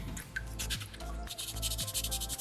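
Sandpaper rubbed over a small soapstone fox carving, close scratchy strokes coming in uneven bursts against a low background hum, with no talking.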